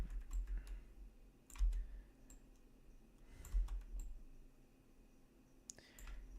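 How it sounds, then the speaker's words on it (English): A loud computer keyboard clicks and clacks in irregular bursts during a Planet Zoo building session, with sharp isolated keystrokes separated by quiet gaps and no speech. "Keyboard is very loud."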